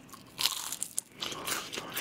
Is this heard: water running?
no